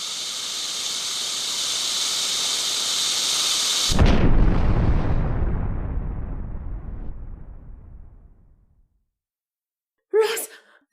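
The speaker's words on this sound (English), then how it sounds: "A meteor. It must have landed out there in the field." A meteor crashes to earth as a radio drama sound effect: a long, loud roaring rush gives way to a heavy rumbling impact that slowly fades to silence, then a voice briefly exclaims.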